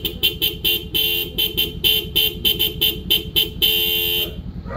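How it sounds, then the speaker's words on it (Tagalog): Denso compact horn fitted to a Honda CB500X motorcycle, sounding loud and close in a rapid series of short honks followed by one longer sustained blast, alone with no talk. "So sound check tayo sa Denso horn."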